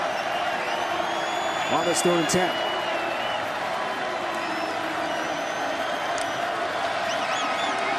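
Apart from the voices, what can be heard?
football crowd noise at Waldo Stadium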